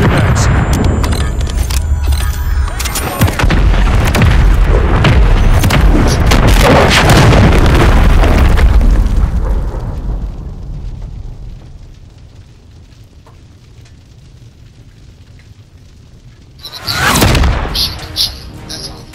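MGB killstreak detonating in Call of Duty: Modern Warfare III, a long, loud rolling series of booming explosions that fades into quiet rumble before one more sharp blast near the end.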